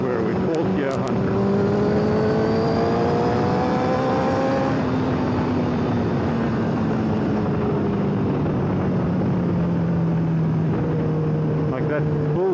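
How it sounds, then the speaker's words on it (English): A 2009 Honda CBR1000RR Fireblade sport bike climbs through the revs on the road, its engine note sweeping upward in pitch, easing off and rising again, loud and close over wind rush, with a rider talking over it. "that build-up of the RPM is just absolutely monstrous"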